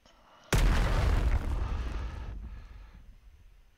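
A single heavy mortar blast booms suddenly after a quiet moment, close and loud, then rolls away in a long, fading rumble.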